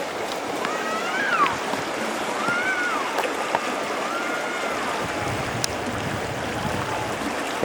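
Floodwater in Utawala rushing past as a steady, broad outdoor wash of flowing water, with a few faint high chirps above it.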